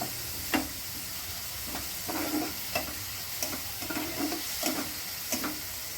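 Tomato is stirred into a methi and egg bhaji in a frying pan, a soft steady sizzle with periodic scraping strokes of the spoon, close by and fairly quiet, with no voices.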